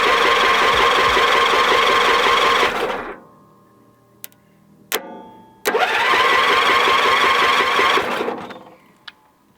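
A small lawn mower engine is cranked over by its starter solenoid and runs in a loud, rapid chatter for about three seconds, cuts out to quiet clicks, then turns over and runs again before stopping.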